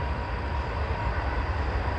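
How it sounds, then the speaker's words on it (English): A train passing on a nearby track beside a home, a steady loud low rumble and roar filling the whole clip without a break. "I wait till the train go by. I live right by the train track."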